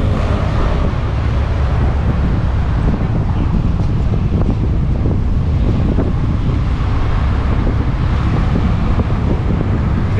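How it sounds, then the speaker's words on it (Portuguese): Strong seafront wind on the José Menino shore in Santos buffets the microphone in a loud, steady roar with low gusting rumble throughout, no voices. "Ventania, hein?"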